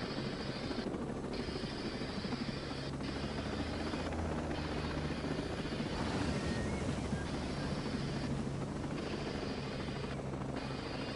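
Video game helicopter hovering and settling onto a helipad, with a continuous loud rotor thrum and whine that pulses slightly as it holds position, close and unbroken.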